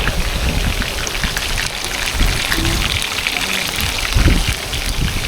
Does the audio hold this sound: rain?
yes